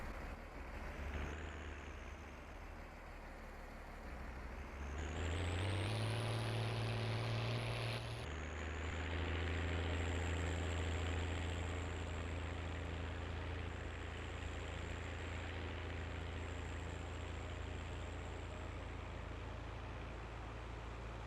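A tractor engine in Farming Simulator 19 runs as a continuous loud drone, revving up partway through and then holding a steady, heavy hum with no talking.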